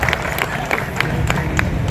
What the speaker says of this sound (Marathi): आजच्या कार्यक्रमाचं असणारं उद्घाटन जरा जोरदार टाळ्या होऊ द्या